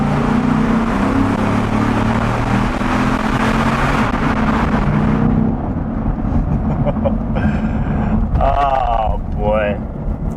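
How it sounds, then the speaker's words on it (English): A car driving with traction control on, its engine drone loud and continuous, then thinning out as a voice talks over it. "So this car, with traction control on, it actually handles really well"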